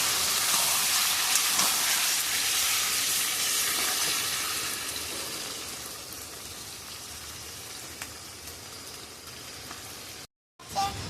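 Young goat meat curry is sautéed in a pan, giving a hissing sizzle that is strongest at first and then fades to a quieter, steady simmer, cut off briefly near the end.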